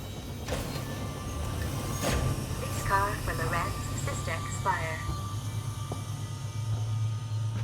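An elevator-tram ride in the sci-fi horror game Alien: Isolation, a steady low mechanical hum with faint clicks and whirs throughout, while someone talks over it.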